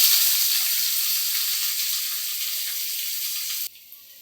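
Sliced onion and radish sauté in a hot pan for chutney, giving a loud, broad, steady sizzle that fades slowly and then drops off abruptly near the end.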